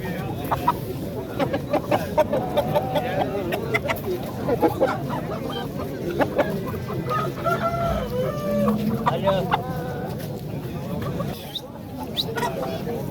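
Roosters crow and chickens cluck amid a busy poultry market, with steady crowd noise and people talking throughout.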